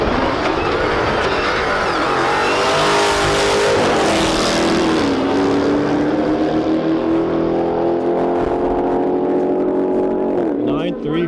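Dodge Demon cars drag racing, a loud sustained engine roar with rising and shifting pitch as they accelerate down the strip, the sound dropping off at the end, with a voice talking over it.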